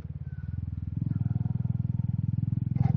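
A BMW GS 310 motorcycle rides past with a steady, pulsing single-cylinder engine note, loud and close throughout, with a brief higher sound near the end, on a mountain road ride toward Ladakh.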